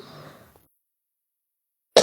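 A single sharp cough bursts out after a stretch of quiet, following faint speech at the start, during a Quran recitation lesson.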